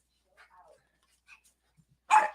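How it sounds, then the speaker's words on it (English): Dogs reacting excitedly to a visitor indoors, faint whimpers and yips at first, then one sharp, loud close bark at the end. "The dogs are gonna kind of like flip out for a bit"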